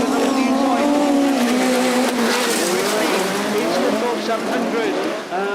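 Autograss racing cars roar around a grass track toward a bend, loud engines whining and shifting pitch with some tire scrub, as a commentator talks over the racing.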